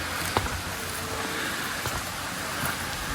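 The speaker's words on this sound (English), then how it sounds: "I can hear the water running" Water running at the Yelapa waterfalls near Puerto Vallarta, a steady even rush heard from a distance, with faint outdoor clatter over the constant flow.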